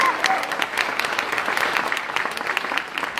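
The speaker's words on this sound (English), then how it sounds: "How about we give him a big round of applause" Spectators at a Royal Bengal Tiger show at Dreamland on the Gold Coast, Queensland, clap together. The scattered hand claps are moderately close and continue at an even level throughout.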